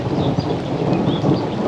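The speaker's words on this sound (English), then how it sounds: "The rain is picking up quite a bit now." Heavy rain pours steadily beside a canal during a thunderstorm, making a loud, dense, close wash of noise with a low rumble underneath. No one speaks.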